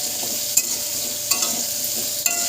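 Potatoes stir-fried with salt and turmeric sizzle in a steady, dense hiss, with occasional scraping clinks as they are stirred in the pan.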